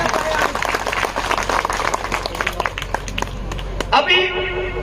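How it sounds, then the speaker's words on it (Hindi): Applause from an audience at a live Hindi political speech, a dense stretch of clapping with crowd noise under the speaker's ongoing voice, ending in a sudden shift near the close. "तालियां बजाएं, बहुत बढ़िया।"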